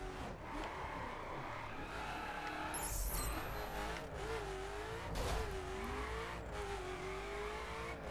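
A Koenigsegg Agera R engine in the video game The Crew roars steadily at high revs with a rising and falling whine, tires spinning and squealing throughout.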